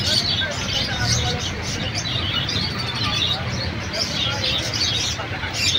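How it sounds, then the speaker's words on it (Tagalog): Crowd of caged birds at the Malabon pet market chirping and cooing continuously, moderately loud, blended with general market noise, passing vehicles and background chatter. "Maraming mga ibon."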